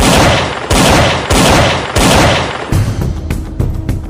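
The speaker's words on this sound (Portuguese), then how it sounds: "Foram 6 tiros na cabeça." Gunshot sound effects in a dramatized crime story: four loud, evenly spaced blasts fill the first seconds, then fainter sharp reports and rumbling echoes trail off.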